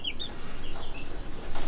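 Red Mottled Ancona bantam chicks make faint, high chirps and soft clucks around a garden, a few scattered peeps over quiet background noise.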